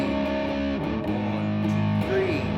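Distorted electric guitar playing a riff, loud and sustained with chord changes, no voices over it.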